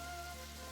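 Steady rain in the game 14 Days with You, a soft continuous wash of falling drops, faint and even throughout with no talk.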